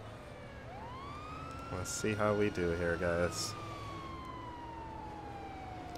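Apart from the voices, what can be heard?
ambulance siren in video game GTA 5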